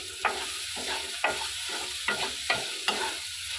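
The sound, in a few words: sautéing banana flower with sugar in a pan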